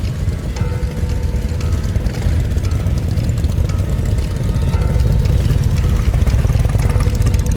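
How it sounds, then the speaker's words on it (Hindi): A loud, continuous engine drone throbs steadily throughout, growing a little louder toward the end. "मोटरसाइकिल की आवाज आई"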